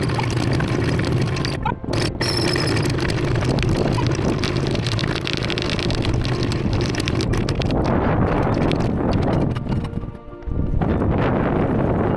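Strong wind of about 17 knots roars and buffets the microphone on a sailing boat under way, with water rushing and brief gusty dropouts, loud and continuous throughout.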